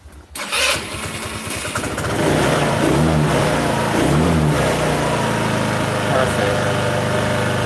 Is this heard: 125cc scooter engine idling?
yes